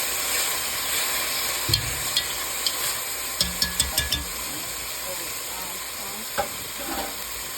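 Minced garlic for braised beef ribs sizzling in a hot pan, a constant soft hiss with a run of light clicking utensil taps in the middle and a few more near the end, close by with no voices.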